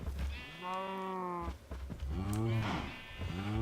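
Cows in Minecraft moo in two long drawn-out calls, loud and close, a brief pause separating them and a third beginning at the end.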